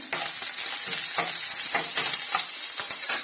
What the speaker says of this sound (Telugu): జీలకర్ర, ఆవాలు వేసాను, వేగుతున్నాయి అవి.